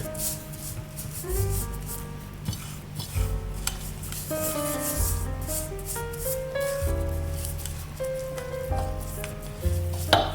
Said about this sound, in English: So just get the meat and rub it all in.